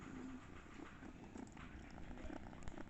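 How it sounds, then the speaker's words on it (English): Pet cat purring very close, a faint continuous low rumbling purr with no speech over it. "Sorry, it's my cat. He's really nearby. He's just purring."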